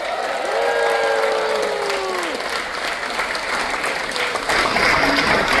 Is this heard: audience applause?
yes